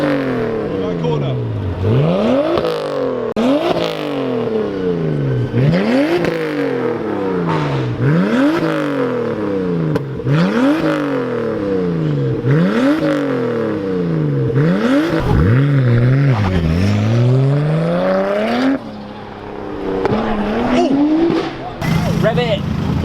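A show car engine revs repeatedly in a steady rhythm of rising and falling sweeps, loud and close, with people talking and shouting over it.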